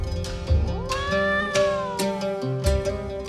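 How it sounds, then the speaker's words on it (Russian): Street cats in Istanbul meow repeatedly up close, giving several drawn-out, rising and falling cries in quick succession with no talk over them. "На улицах Стамбула хозяйничают коты и кошки."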